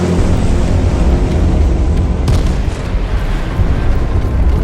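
A grenade goes off in the battle royale game H1Z1, a loud sustained rumbling roar of blast noise filling the whole span with no clear gap.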